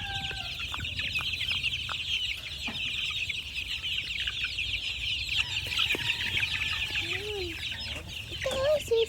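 Gamefowl chickens and chicks cluck and peep close by in a farmyard over a steady hiss of background noise, with a few louder calls toward the end.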